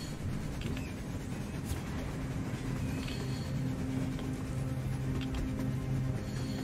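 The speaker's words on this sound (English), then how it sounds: "A train! A damn train on the surface!" Rumbling, continuous train noise from a train running on the surface in the video game Metro Exodus, a steady low drone with faint clanks lasting throughout, with no talk over it.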